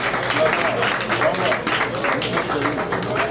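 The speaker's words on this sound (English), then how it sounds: "please give this group a big hand of applause" An audience claps for a group at a traditional cultural event, a steady patter of hand clapping running throughout, moderately loud with voices mixed in.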